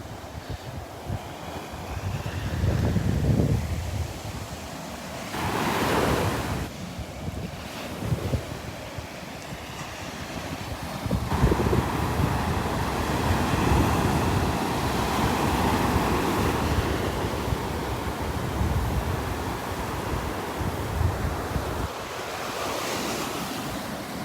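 Ocean surf washes ashore on the Gulf beach at Delnor-Wiggins under a breeze, a continuous rushing roar with swelling waves and gusts of wind noise on the microphone.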